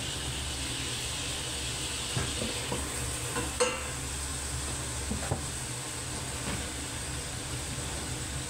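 Shrimp tipped into a hot pan and stir-fried, giving a steady close sizzle with occasional scraping and clinking from the utensil, one sharper knock near the middle, and no talking.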